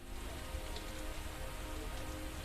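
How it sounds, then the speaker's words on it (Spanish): Steady rain falls over a neighborhood, a faint, even patter spread across the whole stretch with no other sounds standing out. "Esta peculiar y extraña lluvia que apareció de la nada moja una sección bastante grande del vecindario."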